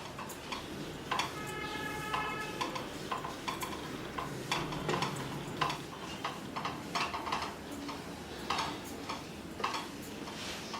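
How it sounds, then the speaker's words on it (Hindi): Semolina roasting in melted ghee in a pan, stirred with a utensil that scrapes and taps the metal in irregular close clicks over a steady low sizzle, with no talk. "घी पिघल चुका है। अब इसे अच्छी तरह से हमें होने देना है। हल्का सा रंग बदलने तक हमें इसे भूनना है।"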